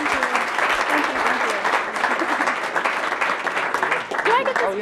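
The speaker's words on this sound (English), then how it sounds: "Give a round of applause, everybody." Audience applause breaks out at a live show, a dense steady wash of clapping that holds for the full stretch, with voices calling and talking over it.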